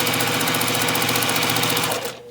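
A sewing machine runs at steady high speed stitching two quilt charm squares together, a rapid even mechanical chatter close by that stops abruptly near the end, with no voices.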